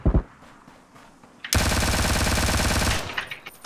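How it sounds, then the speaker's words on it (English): Sustained burst of automatic gunfire in the battle royale video game Ring of Elysium, starting abruptly after a single early shot and rattling loudly for about one and a half seconds before cutting off. "He's shooting this guy."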